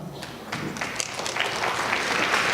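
An audience at a school district board meeting applauds, the clapping swelling from scattered claps into a fuller, steady round.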